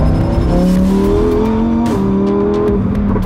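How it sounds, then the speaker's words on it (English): Lamborghini Huracan Tecnica engine downshifting, a loud, close, rising and falling exhaust howl with sharp pitch jumps and crackles as gears drop, with no talking. "the down change is like the symphony orchestra of pistons and rods in full force"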